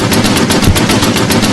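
Continuous rapid gunfire from a tank video game roars loud and close, a dense unbroken burst of machine-gun shots with no talking.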